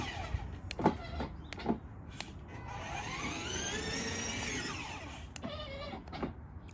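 A remote-controlled Dodge Challenger ride-on toy car gives a short whirring motor whine that rises and falls, set among scattered light clicks and knocks.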